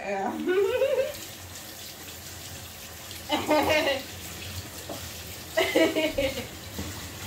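Callaloo and saltfish being rinsed under a running kitchen tap, with water splashing and spattering in a few louder bursts over a steady background rush, while a voice sounds briefly at the start.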